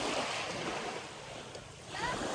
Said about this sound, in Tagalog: ganito po yung dagat namin dito